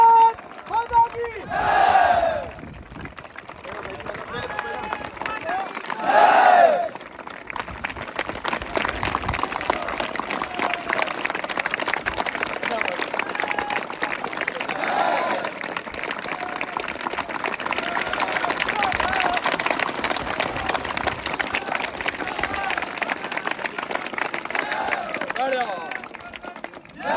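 A crowd shouts patriotic chants in two loud bursts near the start, then breaks into sustained clapping and cheering mixed with voices and general hubbub that swells again later.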